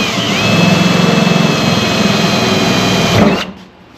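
A reciprocating saw cuts the sheet metal of a first-generation Ford Bronco, a loud, close, buzzing, grinding rasp with a steady whine that runs for about three seconds before it stops abruptly and leaves a quieter hum.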